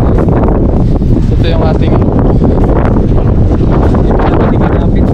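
Strong gusty wind buffets the microphone on a small fishing boat at sea, a loud roaring rumble that never lets up, with someone speaking over it.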